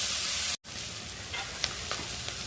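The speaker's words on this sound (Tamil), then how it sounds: "இஞ்சி பூண்டு விழுது நல்லா பச்சை போகிற வரைக்கும் வதக்கணும்" Ginger garlic paste sizzles and fries steadily in a pan for a vegetable biryani, a continuous close hiss broken by one brief dropout and a few faint scrapes of stirring.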